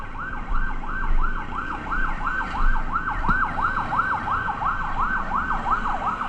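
A wailing ambulance siren sweeps up and down in quick, regular cycles, heard at moderate distance over a low background rumble.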